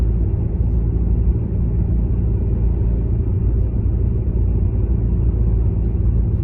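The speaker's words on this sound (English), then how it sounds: "Road is absolutely clear, so we'll keep our car at like 30 miles" A car cruises along a clear road at about 30 mph, heard from inside as a steady low rumble of engine and tyres with no pauses.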